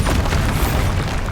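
A Bombarda explosion spell goes off in Hogwarts Legacy as a short, loud, close boom with a burst of broadband rumble lasting just over a second, with no talk.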